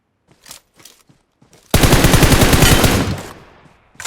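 Enemy gunfire in PUBG Mobile: a few scattered sharp shots, then a loud, dense burst of rapid automatic fire lasting over a second before fading into a trailing echo.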